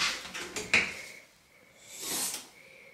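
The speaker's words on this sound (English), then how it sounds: "Do you want to see Mummy's new wardrobe? Open that door." A wardrobe door is pulled open in a home, giving a short wooden clunk and creak with a brief squeak near the start, followed by a softer rustling swing; close and fairly quiet, no talking.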